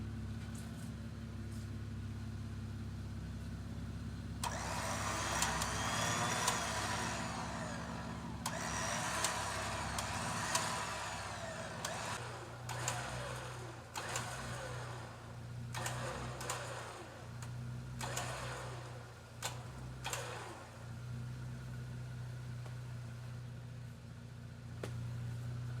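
Electric winch newly installed on a Jeep Gladiator spools its cable back in with bursts of whirring and clicking, running intermittently, not continuously, over a steady low background hum, fairly close.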